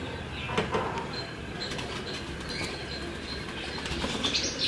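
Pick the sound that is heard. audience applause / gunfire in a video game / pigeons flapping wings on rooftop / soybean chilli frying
pigeons flapping wings on rooftop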